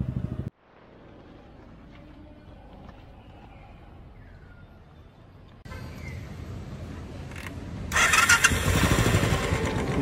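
A motorcycle with a freshly repaired battery connection is started: a short burst, then a low steady idle that steps up to a louder, rougher running engine close by.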